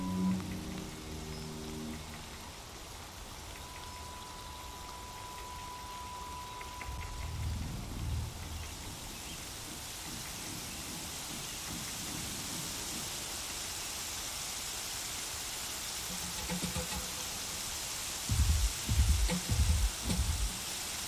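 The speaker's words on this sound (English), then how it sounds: "It's a satisfying rain, actually." Soft, even rain hiss in Horizon Zero Dawn plays throughout, with low rumbling thuds and a few heavier impacts scattered underneath, and bursts of louder action near the end.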